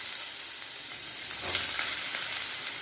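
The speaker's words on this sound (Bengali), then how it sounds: "একটুখানি কড়াইতে তেল দিয়ে দিয়েছি, এবার আলু গাজরগুলো ভেজে নেব।" Potatoes and carrots frying in oil in a wok, a steady broadband hiss of sizzling fat with a brief louder burst midway as the pieces are stirred, close and continuous with no talking.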